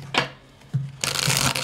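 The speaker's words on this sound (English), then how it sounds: "Two more shuffles." Tarot cards being shuffled by hand in three quick riffling bursts, close and crisp, separated by brief pauses.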